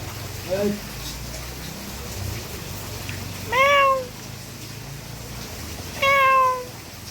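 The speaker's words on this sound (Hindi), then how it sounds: "बहुत प्यारा सा बिल्ली सो की बैठा है" A cat meows three times in a calm outdoor setting, short rising-falling cries spaced a few seconds apart, clear and fairly close over a low background murmur.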